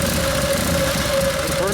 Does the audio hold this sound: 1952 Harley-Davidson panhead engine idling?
yes